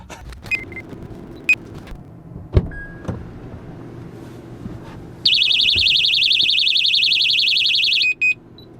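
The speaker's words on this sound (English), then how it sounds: "This thing is loud and annoying" A Technaxx TX-100 plug-and-play car alarm blares a loud, steady electronic tone for about three seconds and cuts off, followed by a short chirp, after quieter clicks and car door sounds.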